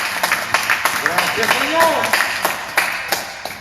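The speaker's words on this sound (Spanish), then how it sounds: "Dale un aplauso al Rey con todo su corazón." A church congregation claps along at a Spanish-language worship service, a run of sharp irregular hand claps over a loud voice calling out praise.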